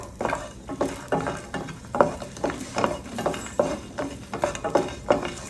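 Seven unpeeled garlic cloves roasting in hot oil in a pan, with about a dozen regular scraping, clattering stirring strokes over a soft sizzle.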